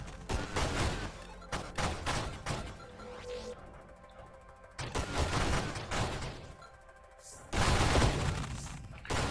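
Rapid-fire shooting in the space shooter game Nova Drift, dense bursts of quick synthetic shots with thumps, pausing briefly and then resuming louder toward the end.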